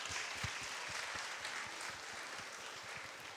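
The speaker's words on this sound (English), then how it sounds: "round of applause for that" Applause from an audience at a beauty and confidence talk event, a steady wash of clapping that stays moderately loud and even throughout, with scattered sharper hand claps standing out near the front.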